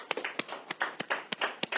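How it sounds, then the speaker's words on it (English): Hands clapping together in a quick, slightly uneven rhythm, about a dozen sharp claps in under two seconds, fairly close and with no talking. "clap your hands"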